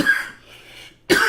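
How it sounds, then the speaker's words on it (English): A single sharp cough up close, a short burst followed by quiet, then a second harsher cough. "it's inevitably going to make me cough"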